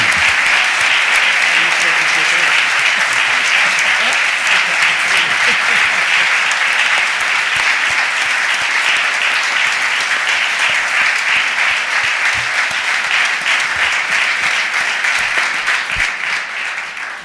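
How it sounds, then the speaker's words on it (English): A city council chamber audience in Philadelphia gives sustained applause for retiring council members during a mayor's budget address, dense steady clapping that fills the room for the full length and tapers off at the end. "can we give them a round of applause for their years of service?"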